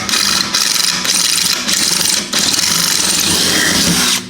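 Power drill driving a step bit through a hole during a turf spray boom install, stepping up to a 3/8 size; a continuous loud whirring grind with short dips between passes, no talking.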